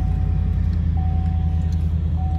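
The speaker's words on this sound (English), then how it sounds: "And we'll turn on the truck now." A 2022 Chevrolet Silverado 2500 HD Custom with the 6.6L engine idles with a steady, deep, rumbling drone, heard from inside the cab with a faint tone chiming over it.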